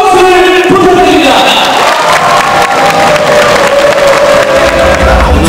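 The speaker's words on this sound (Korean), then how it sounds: "전남드래곤의 선수들을 위해 뜨거운 박수를 부탁드립니다" A large crowd cheers and applauds loudly for the Jeonnam Dragons football players, a dense, continuous roar of clapping and shouting that fills the whole stretch.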